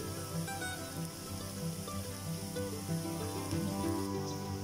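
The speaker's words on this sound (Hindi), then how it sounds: "अब हम इसमें लहसुन और हरी मिर्च मिला लेंगे और इसको भी प्याज के साथ अच्छे से पकने देंगे।" Garlic and green chilli fry with onion in a pan, giving a soft, steady sizzle under a constant layer of tonal background music, with no voices.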